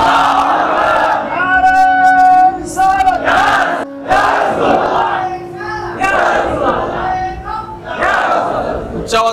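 A large crowd at a Bengali religious sermon gathering roars Allahu Akbar in unison in answer to a takbir call, loud chanted waves of many voices repeating in bursts.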